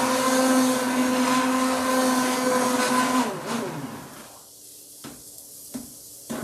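A kitchen blender purees homemade tomato soup with a loud, steady whir for about three seconds, then winds down in pitch and stops, leaving near silence broken by a few faint clicks.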